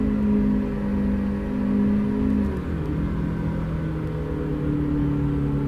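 Simulated Ford Focus engine from a Euro Truck Simulator 2 mod, a steady loud drone that shifts pitch partway through as the revs change, alone with no talk.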